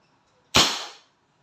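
A Crosman SNR 357 airgun revolver fires a single sharp double-action shot, close and loud, with a short decaying tail and no talk.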